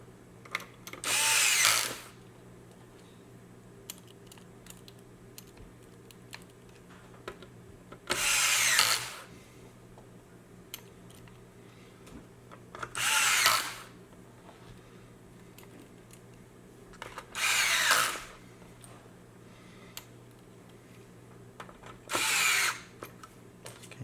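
A power tool drives bolts into the instrument cluster of a BMW E39, E38 or E53 during a pixel repair. There are five separate whirring bursts, each lasting a second or two, spaced several seconds apart over quiet background hum.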